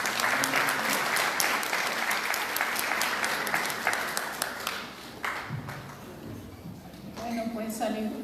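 An audience at a forum on the Tren Maya applauds to welcome a speaker, dense clapping that thins out after a few seconds as voices take over.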